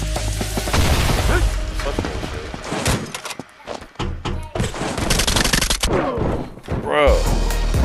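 Loud, dense gunfire from a mobile shooter game, blasts and bursts filling most of the stretch with brief lulls, heard alongside game effects.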